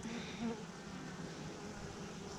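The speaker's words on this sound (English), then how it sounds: "There's some bees." A soft, continuous insect drone of bees buzzing nearby, faint against a low background hum.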